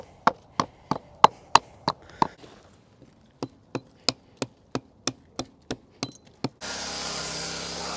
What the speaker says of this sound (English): Okay, chisel them out.